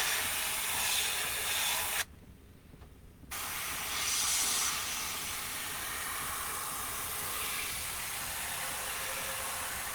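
Steady airbrush hiss from an Iwata brush spraying water-based paint onto an RC car body shell, continuous and close, broken by a brief pause before spraying resumes.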